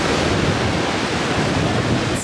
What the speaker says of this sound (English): Very windy, but still.